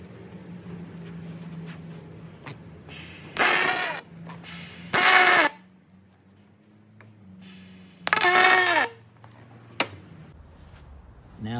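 Three short, loud electric buzzing bursts of tack welding on aluminium boat seat poles, each under a second, stand out against a low steady hum with quiet gaps between them.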